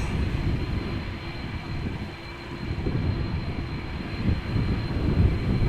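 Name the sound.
Delta Airlines Airbus A330-300 jet airliner, flight to Detroit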